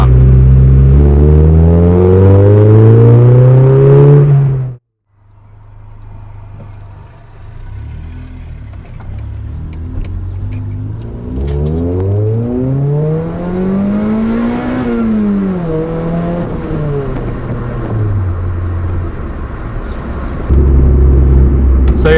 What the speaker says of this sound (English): I've fallen in love with the tone this exhaust emits